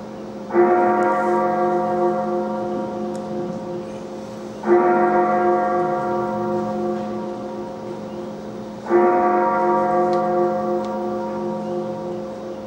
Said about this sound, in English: Twelve chimes?